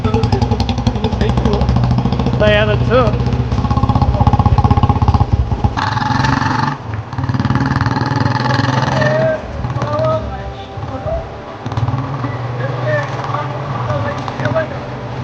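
A motorcycle engine runs steadily throughout, loud and close, with a rising rev partway through while people talk over it.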